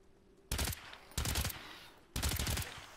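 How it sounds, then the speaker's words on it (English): Guns firing in the shooter game Earthfall, three loud close bursts of rapid automatic fire, each about half a second long, separated by quiet gaps with no voices. "the only sound you're going to hear a lot is the gun shooting"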